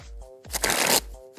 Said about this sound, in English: I didn't learn how to shuffle a pack of cards like this